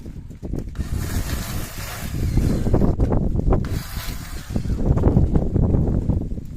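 Steady wind buffeting the microphone, a continuous rough rumble that swells and eases for several seconds.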